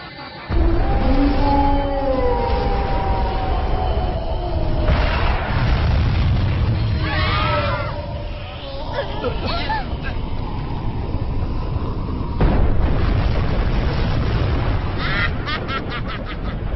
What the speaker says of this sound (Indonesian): Tembakan gelombang ultra aktifkan.